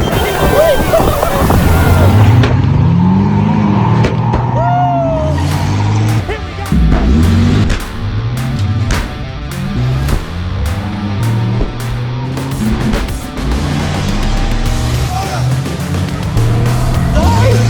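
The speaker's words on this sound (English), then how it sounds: "Start your engine." Ford and Holden cars at a street race start rumble and rev nearby in loud, repeated bursts over a steady engine drone, with people talking throughout.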